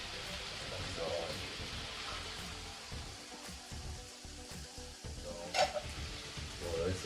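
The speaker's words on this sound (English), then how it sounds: "So you see the way I stir it" Ackee and red herring stirred in a pot, Jamaican style, giving a soft scraping and low sizzle with a few louder clinks near the end, fairly quiet throughout with faint background voices.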